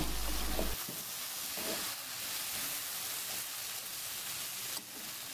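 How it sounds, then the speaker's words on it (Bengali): Spiced chickpeas cook in a pan as they are stirred, a soft steady sizzle with a few quiet scraping strokes, faint and close, without talk. "এরপর আবার একটু নেড়েচেড়ে মিশিয়ে নিচ্ছি।"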